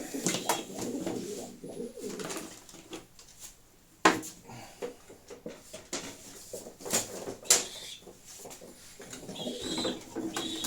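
Sport pigeons coo in repeated soft, throaty phrases close by, mixed with occasional sharp clicks and knocks from their surroundings.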